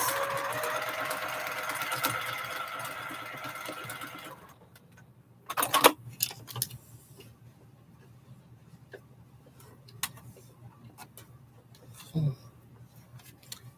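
A sewing machine runs a quarter-inch seam in a quilting project with a steady close hum for about four seconds, then stops, followed by scattered clicks and handling noises in a quiet room.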